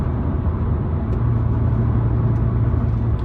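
A Honda Civic FC 1.8 with a stock ECU remap and an AZC rear muffler pulls away from a standstill, its engine a steady, close, low droning roar that holds for the whole moment.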